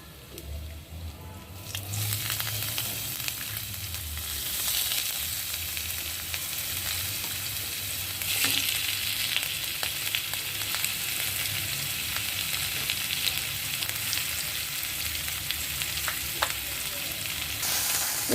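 Crushed ginger, garlic and green chili fry with asafoetida in a hot pan, giving a steady, busy sizzle with faint stirring scrapes throughout, close and moderately quiet, no talk.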